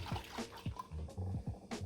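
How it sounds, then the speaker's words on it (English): Water sloshes inside a glass marinara sauce jar being shaken, a quick series of rhythmic liquid splashes, close and fairly quiet. "And then I'm going to shake it. Give it a shake."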